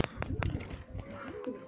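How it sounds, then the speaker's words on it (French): Pigeons coo inside an aviary, several soft rolling coos and low warbling calls overlapping close by with a few brief wing or movement sounds. "Là il y a tous les pigeons."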